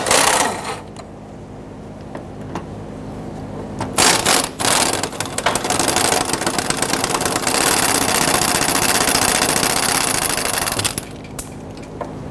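Power tool whirring on a 14mm socket, removing the carrier bearing bolts of a 2006-2012 Toyota RAV4 drive shaft, preceded by a few clanks and running as a loud continuous buzz for several seconds before stopping.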